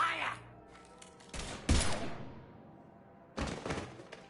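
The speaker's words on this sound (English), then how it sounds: "Now open fire!" Gunfire in the sci-fi game Mass Effect 3 comes as two short bursts of rapid shots a couple of seconds apart. Quieter stretches and a voice come before them.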